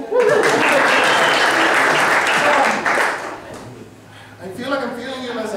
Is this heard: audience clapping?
yes